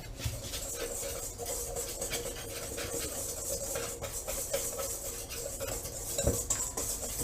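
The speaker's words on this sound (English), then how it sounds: "I want to whisk that around real well." A whisk scrapes and clinks steadily against the sides of a bowl while salted ingredients are beaten together, in rapid repeated strokes at moderate volume with no talking.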